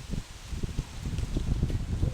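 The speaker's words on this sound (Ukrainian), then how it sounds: "вітер сильний" Gusty wind buffeting the microphone in low rumbling bursts, with faint rustling underneath, fairly quiet overall.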